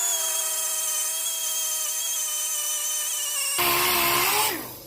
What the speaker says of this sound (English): It's kind of woolly on a orbital sander, so we'll give this a go next.